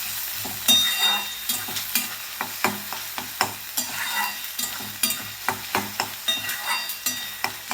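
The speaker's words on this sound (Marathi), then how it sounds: "कांदा चांगला भाजून घ्यायचा आहे." Finely chopped onion frying in hot oil in a wok for a ridge gourd and moong dal dish: steady sizzling with rhythmic scraping stirs throughout, close and fairly loud, with no talk.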